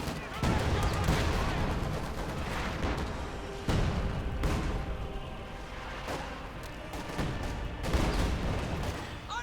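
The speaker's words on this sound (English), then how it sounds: "Lots of artillery going in." Artillery fire in Company of Heroes 2 thunders in a 1v1 match: repeated heavy booms and blasts land every couple of seconds over dense battlefield gunfire, loud and close.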